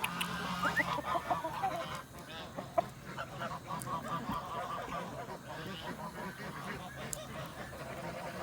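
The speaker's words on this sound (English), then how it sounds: "Don't be afraid of the geese." Geese honking in a farmyard kept with chickens: a few nasal honks near the start over a busy background of rustling and scattered animal noise, fairly close but not loud.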